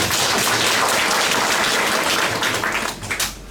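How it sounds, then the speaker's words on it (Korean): An audience at a pepper seedling cultivation training session applauds loudly and densely, a thick sustained clatter of many hands that eases slightly toward the end. "한 번 더 격려의 박수 부탁드리겠습니다"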